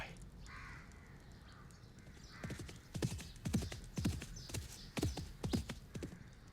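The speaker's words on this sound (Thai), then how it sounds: "ผมเห็นคนควบม้าผ่านไป" A horse is ridden past at speed in a Thai television drama, with rhythmic hoofbeats clip-clopping in quick clusters that grow louder midway, alongside faint bird calls and no talk.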